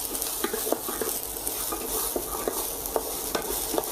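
Shallots stir-fry in a pan for mushroom sauce, a bright steady sizzle punctuated by regular crisp spatula clicks and scrapes, close and without talk.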